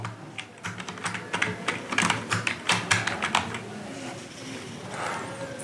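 Someone types a test email into the compose field on a computer keyboard, the keys clicking in quick, uneven bursts at close range with no voices, then a brief, quieter stretch.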